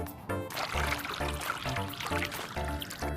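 Ordinary tap water poured into a container for a Kangen water demonstration, a steady close splashing pour with brief breaks, heard alone without talk.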